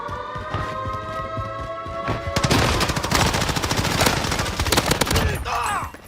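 Rapid automatic gunfire erupts in a Warzone match, likely an MP5 submachine gun, with dense bursts of shots after a quieter stretch of tonal game noise, loud and close throughout.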